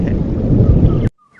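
A deep, loud rumble of thunder from a thundering cloud in an animated story, rolling steadily for about a second before cutting off abruptly, followed by a faint thin tone.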